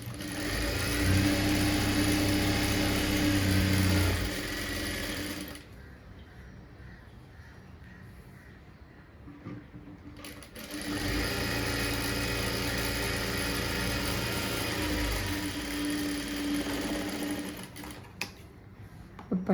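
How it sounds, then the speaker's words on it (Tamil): An electric sewing machine stitches the patti of a blouse, running in a loud, steady whir, pausing briefly in the middle, then stitching again at the same pace up close. "ஆப்போசிட் வச்சு இப்போ இதை தைச்சி எடுத்துடலாம்."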